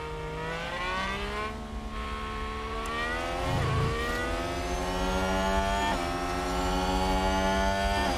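A Ferrari Formula 1 car engine in F1 Manager 2022 holds a steady high-pitched whine that climbs and shifts through gear changes, loud and close with no talk over it.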